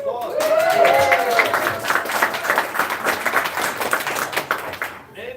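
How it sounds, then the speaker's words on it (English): Applause from the crowd at a coffee shop campaign meet and greet in New Hampshire, a dense burst of clapping that swells early and then thins into scattered claps, with a voice over the start. "Let's give them a round of applause."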